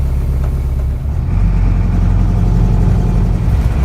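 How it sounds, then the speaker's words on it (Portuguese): A car on a mountain road running close and loud as it passes, with a steady engine rumble and road noise that stays strong for several seconds. "Esperar o carro passar."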